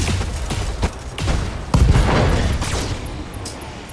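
Weapon fire in the BattleTech mech combat game, a burst of rapid gunshots and booming impacts, loud and close, followed by a sustained rumbling explosion that fades away.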